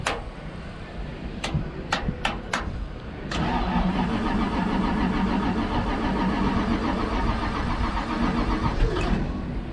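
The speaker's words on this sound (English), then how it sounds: "I'm gonna warm the car up" A NASCAR race car's engine cranks with several sharp clicks, then catches and settles into a loud, rumbling idle as it warms up on a street, steady and close with no talk.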